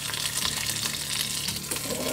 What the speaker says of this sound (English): So we're just gonna let that sear for,